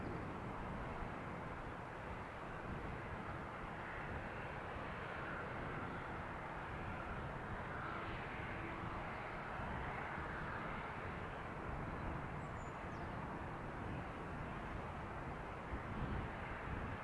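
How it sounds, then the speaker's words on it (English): KLM Boeing 737-700 taxiing toward the runway threshold at Amsterdam Schiphol, a continuous low, broad jet engine rumble heard from a distance outdoors, steady throughout with faint wind noise. "a KLM 737 on the move to the runway threshold"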